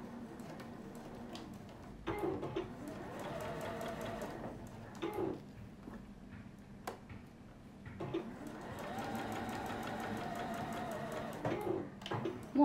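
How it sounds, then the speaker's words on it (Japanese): A sewing machine backstitches the seam of a zipper pocket, giving quiet bursts of rapid, even stitching that start and stop in short runs with pauses between. "縫い止まりの縫い始めかところから針を刺して、ここも返し縫いしていきます"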